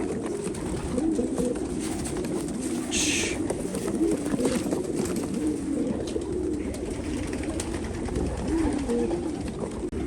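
Pigeons cooing at a pigeon auction, repeated soft throaty coos rolling on and off through a busy room with voices and murmur underneath.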